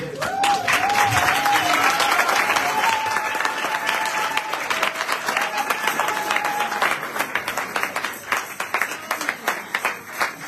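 A church congregation at a Sunday service applauds with loud, sustained clapping that gradually thins toward the end, a voice briefly speaking or singing over it early on.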